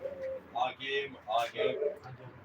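Racing pigeons, prize-winning blue checkers in a loft, coo in several soft rounded calls close by, while a voice talks over them.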